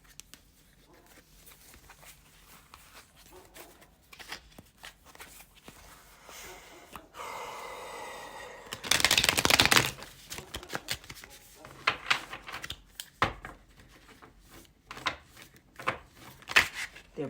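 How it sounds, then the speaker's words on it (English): Tarot cards shuffled by hand, a soft papery riffling and flicking that swells into a dense burst of rapid card slaps mid-way, then breaks into scattered taps and short shuffles, close and fairly quiet. "And then I will shuffle for our guidance card."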